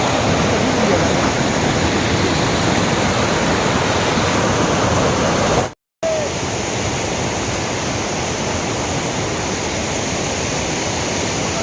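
Strong river current rushing hard enough to smash trees in its flow, a loud, steady, broadband roar of water that fills the whole stretch, broken only by a brief dropout midway.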